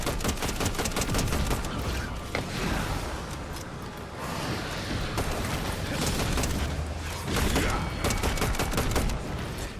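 Constant Fortnite Zero Build solo gunfight, dense rapid-fire shots and bursts layered with explosions and action sounds throughout, loud and continuous.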